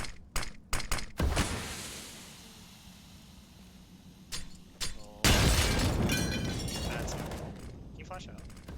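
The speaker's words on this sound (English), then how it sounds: "Flashbang." A flashbang detonates in a competitive shooter match, a sharp loud burst followed by a sustained bright ringing hiss, amid scattered clicks and other game noises.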